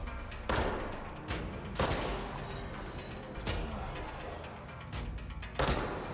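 Rapid bursts of gunfire in the video game Control, fired at an enemy: several loud, dense volleys spaced a second or two apart.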